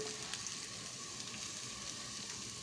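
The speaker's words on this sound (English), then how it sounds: "fry it till it turns golden brown" One medium onion, sliced very thin, fries in a little oil in a pan for a chicken dish, giving a steady, even sizzle and hiss throughout with no voices.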